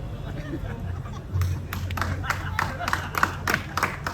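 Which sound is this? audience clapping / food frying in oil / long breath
audience clapping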